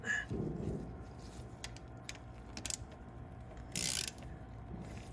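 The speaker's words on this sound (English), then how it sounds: "All right, so now I'll get my ratchet." A hand ratchet works on a 2017 Polaris RZR transmission during an oil change, giving short bursts of clicking separated by pauses, close and fairly quiet against a faint background hum.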